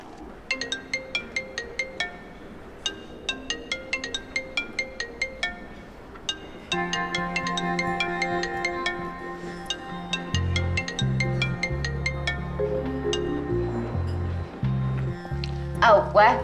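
A mobile phone rings with a looping electronic ringtone melody while a call is placed, starting as sparse repeated chiming notes and then swelling into a fuller tune with a deep bass line, fairly loud and steady throughout.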